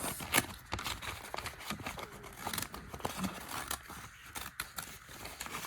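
Crisp snipping and crinkling of paper, a series of short irregular cuts close by with rustling between them, no talking.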